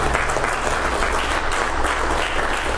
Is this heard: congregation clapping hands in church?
yes